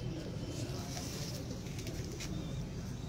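Common pigeons coo steadily on a rooftop, a low, soft burbling that runs through the whole stretch under a dense, constant background, with a voice talking over it.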